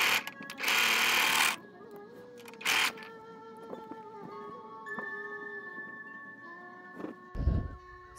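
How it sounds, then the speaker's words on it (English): A sewing machine stitching fabric patches for a bunny face mask, heard in two bursts of whirring, one long and one short, followed by quieter handling noises and a brief clunk near the end. "we have sewed our both patches"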